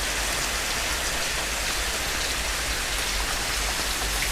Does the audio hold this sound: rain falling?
yes